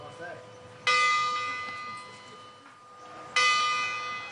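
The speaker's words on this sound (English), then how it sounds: "Bells are made of bronze because of the sustained notes it produces" A bronze bell is struck twice, about two and a half seconds apart. Each bright strike rings on in a long, sustained hum that slowly fades, with a faint voice underneath.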